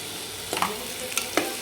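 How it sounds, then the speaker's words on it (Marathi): Potato pieces dropped into a hot, sizzling pan for potato bhaji, with a steady sizzle and a few quick clattering bursts as the pieces land, close by and without talk. "तर आता आपण याच्यामध्ये बटाट्याच्या फोडी टाकून घेणार आहे."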